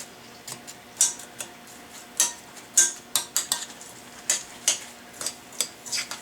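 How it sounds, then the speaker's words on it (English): A spoon stirs a thick zucchini tot mixture in a bowl, giving repeated close, sharp scraping clicks and squelches in an uneven rhythm with no talking. "I'm going to get this stirred up."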